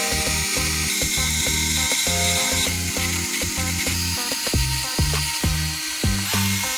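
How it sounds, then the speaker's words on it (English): Screws being backed out of a Lenovo ThinkCentre all-in-one desktop's motherboard with a screwdriver: close, steady rhythmic ratcheting clicks and short mechanical whirs repeating throughout, with no talking. "to remove the motherboard, we need to remove about 7 to 8 different screws"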